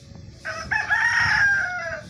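A fighting-breed rooster crows once, loud and close, its drawn-out call rising and holding before trailing off, with no other voices around.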